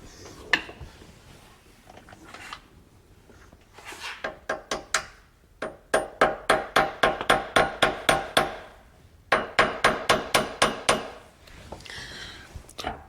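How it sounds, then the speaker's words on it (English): A hammer strikes a socket to tap a press-fit part into the crank during a manual transmission swap on a 1991 Fox-body Mustang, producing sharp metallic blows in quick rhythmic bursts, close and clear, with short pauses between runs. "I just got to grab a socket and then I'll tap that in quick."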